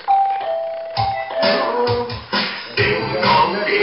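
A doorbell rings at the front door with a steady chime tone, followed by a busier mix of music-like sounds and other noises. The scene comes from a comic Little Red Riding Hood and the wolf story.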